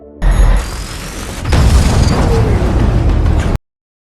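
A beacon tower explodes in a loud rumbling blast, followed by a sustained roaring, crackling wash of debris noise that swells and then cuts off abruptly.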